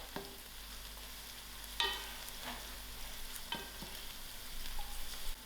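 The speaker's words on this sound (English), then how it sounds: "and my curry leaf. I'll allow this to fry out." Curry leaves and mustard seeds frying in hot oil, a quiet, even sizzle with a couple of sharp spatters and light stirring taps, no one speaking.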